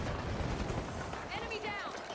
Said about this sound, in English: Incoming grenade!